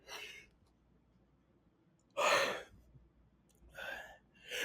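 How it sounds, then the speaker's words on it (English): A person yawns close to the microphone, producing several long, breathy exhalations separated by quiet pauses in an otherwise calm indoor setting. "Did I just see you yawn?"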